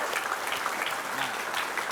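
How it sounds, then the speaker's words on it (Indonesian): A studio audience claps steadily at a televised talk show, a dense continuous burst of applause with a brief voice murmuring underneath. "Tepuk tangan dong"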